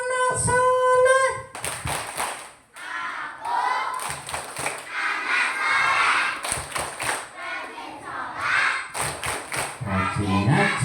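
Children clap a rhythmic chant at a school Maulid celebration, sharp claps in quick patterned bursts alternating with group voices chanting, close and loud over a room crowd.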